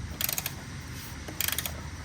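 Ratchet wrench with a half inch socket loosening a bolt on a lawn mower blade spindle, two quick bursts of rapid clicking, close and clear over a faint background hum.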